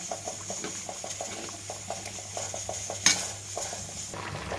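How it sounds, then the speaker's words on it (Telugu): A spoon stirs tomato dal with fresh coriander leaves in a cooking pot, giving soft repeated scraping and clinks over a faint sizzle, with one sharper knock near the end. "కొత్తిమీర వేసి బాగా కలపాలి."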